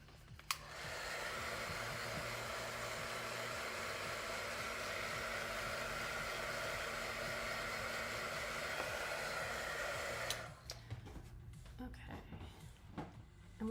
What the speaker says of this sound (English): That's also why I use the heat gun, because it prevents me from doing that,